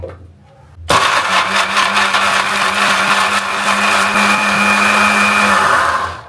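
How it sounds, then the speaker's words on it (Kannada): A mixer grinder starts abruptly and whirs loudly and steadily as it grinds biryani masala with a little water, then winds down at the end; no one speaks. "ಇವಾಗ ಇದನ್ನು ನೈಸಾಗಿ ರುಬ್ಕೊಳ್ಳೋಣ"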